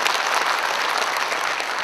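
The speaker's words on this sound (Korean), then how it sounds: "자, 뜨거운 박수로 메시지 듣겠습니다" An audience at a political campaign rally applauds: a dense, steady burst of clapping from many hands, loud and close, with no voice over it.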